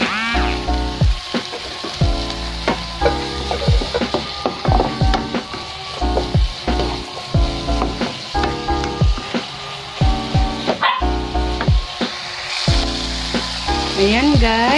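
Tofu and kangkong fry in a pan with oyster sauce, giving a loud, steady sizzle broken by repeated stirring and scraping clatters throughout, with no voices.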